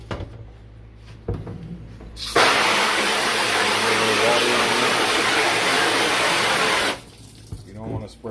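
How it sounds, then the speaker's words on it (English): A water sprayer hisses in a loud, continuous burst for about four seconds, washing out a screen printing screen in a darkroom; quieter handling noises come before and after. "You don't want to spray too much, just enough to really just get it wet."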